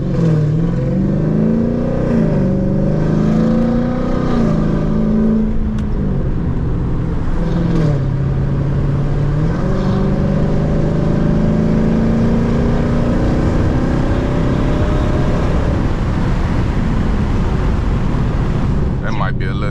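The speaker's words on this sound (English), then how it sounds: "That might be a little too much wind on y'all." Wind rushes through the rolled-down windows of a Scat Pack 392 car as it drives early in the morning, a loud steady roar over the engine's shifting drone, with a voice talking over it.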